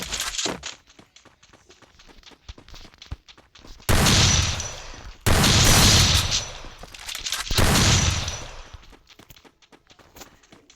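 Three loud, booming shotgun blasts from a video game, each with a long decaying tail, come a second or so apart over faint clicking and background game noise.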